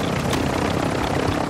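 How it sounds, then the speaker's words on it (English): A reinforcement helicopter in a video game drones with a loud, continuous rotor roar close by, steady and unbroken with no talk. "I've got to kill three reinforcement helicopters as well."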